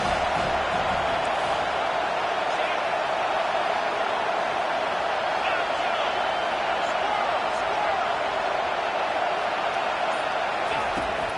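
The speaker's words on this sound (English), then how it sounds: "The crowd getting behind this defense as they try to get a stop in the red zone." A football stadium crowd roars steadily behind the defense trying to get a red-zone stop. The noise is loud and continuous for the whole stretch, with scattered voices mixed into it.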